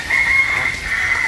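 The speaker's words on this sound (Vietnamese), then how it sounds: "Cho gà ăn đi." Chickens cluck close by, with a sustained fowl call running through most of the moment, fairly loud against light background noise.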